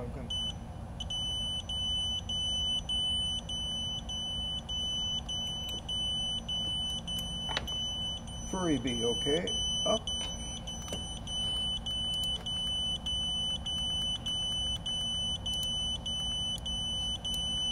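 A drone's rapid electronic beep repeats steadily throughout at a high pitch, with a brief muffled voice and a low background hum underneath.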